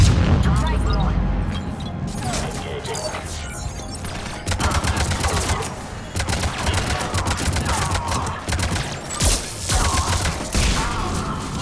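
Rapid bursts of heavy gunfire and booming cannon blasts crackle through a busy Mass Effect 3 battle soundscape, continuous and loud with scattered sharp cracks.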